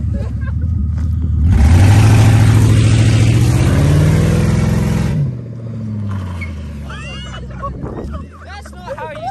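A car engine revs hard at a car meet, a loud rising and wavering roar lasting several seconds before dropping back to idle, with people talking nearby.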